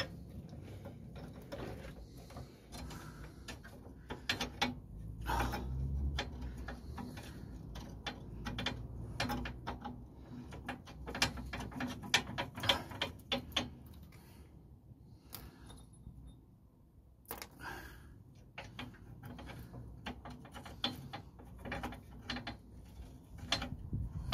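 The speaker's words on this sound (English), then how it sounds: "Going to tighten these nuts up on the shackles." Ratchet clicks and mechanical clatter come from tightening nuts on the leaf spring shackles of a Transit camper van during a broken rear spring replacement, in irregular close bursts with pauses.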